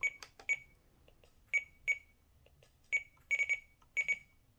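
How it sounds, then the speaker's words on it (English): A FrSky radio transmitter gives repeated short, bright electronic telemetry beeps, single and in quick pairs or triplets, clear and close over a quiet background. "I'll turn that down so the beeping stops."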